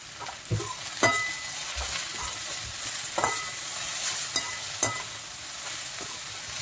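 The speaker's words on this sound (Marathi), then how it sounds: "ते फास्ट गॅसवरच थोडंसं परतून घ्यायचं मीठ आणि कांदा" Onion and salt sauté over a high flame, giving a steady close sizzle with occasional spoon scrapes and knocks against the pan, and no voices.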